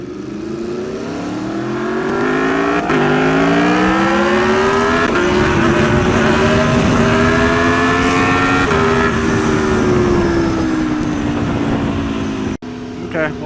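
Aprilia Tuono motorcycle engine revving hard at a race, loud and close, pitch climbing through several gear changes with harmonic sweeps, then cutting off abruptly near the end; voices talk over it.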